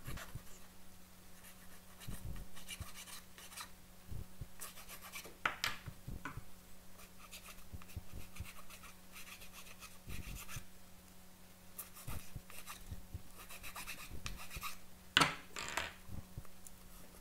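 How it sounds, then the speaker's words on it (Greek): A wooden catapult part being hand-filed to strip glue and burrs, heard as faint, irregular rasping strokes separated by short pauses in a quiet room, with no speech. "λιμάρω να φύγουν οι γόμες και τα γρέζια από το ξύλο"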